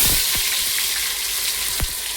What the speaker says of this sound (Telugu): ఫస్ట్గా అల్లం వెల్లుల్లి పేస్ట్ వేసేద్దాం